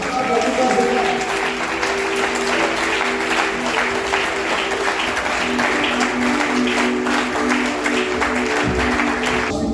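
A congregation at a men's church convention breaks into sustained, dense applause that stays loud and even for nearly ten seconds, with voices and a tonal hum running underneath.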